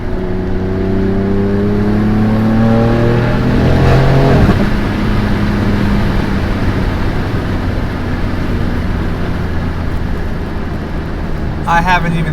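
A turbocharged car climbs the Palomar Mountain road, its engine note rising and falling through the gears with a steady road roar underneath, loud and close from inside the cabin.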